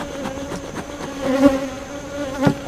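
Honeybees from a recent swarm buzz at their hive, a layered hum of wings with individual bees droning close past at moments, rising and falling in loudness.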